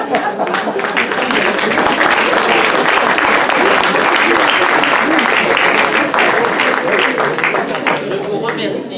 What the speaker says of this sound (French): Je vous remercie d'avoir applaudi tous les conférenciers.